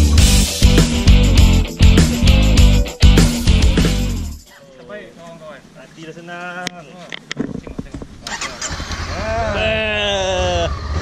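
Several loud, wavering bleats from goats, some close and some slightly farther off, follow a stretch of loud rumbling at the start, with voices calling out now and then.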